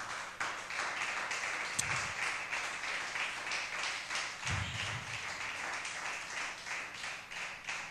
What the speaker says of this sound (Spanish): Dame un aplauso al Espíritu Santo.